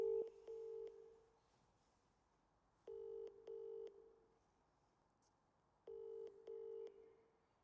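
A telephone call being placed: short paired tone bursts repeat in three evenly spaced groups, clean and quiet, with silence between them.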